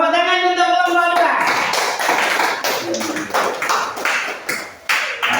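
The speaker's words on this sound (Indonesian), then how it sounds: "Tepuk tangan untuk kelompok 2." A classroom of schoolchildren claps for a group of classmates after a lesson discussion, starting with a brief teacher's voice and then a dense, continuous patter of many hands that stays fairly loud and close for several seconds.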